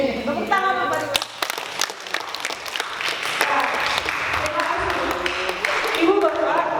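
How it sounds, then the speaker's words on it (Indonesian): An audience at a teachers' training session applauds, a crowded clapping patter mixed with voices talking over it throughout. "Tepuk tangan Bapak Dimas."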